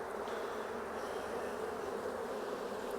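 A dense, steady hum of honeybees buzzing in an opened beehive, close and continuous, with no voices over it.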